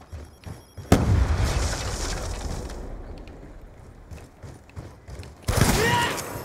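A sticky grenade in a shooter video game detonates with a loud boom, followed by a rumbling tail that fades, then a second sharp blast near the end.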